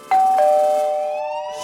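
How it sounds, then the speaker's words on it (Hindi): A household doorbell chimes twice in quick succession, two clear ringing tones close by that fade slowly into a quiet room. "घंटी बजी"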